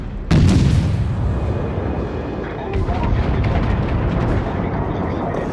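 Naval cruiser gunfire in the World of Warships video game: a sharp heavy boom followed by rumbling battle noise and further bursts of distant fire, with a voice talking over the action.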